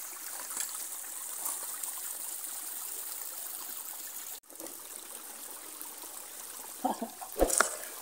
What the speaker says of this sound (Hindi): ऐसा लग रहा है चश्मे का पानी आ रहा है।